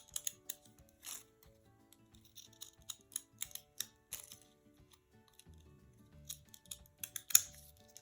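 Decorative-edge scissors snip through paper in a run of close, crisp cuts, each a short clicking bite separated by brief pauses.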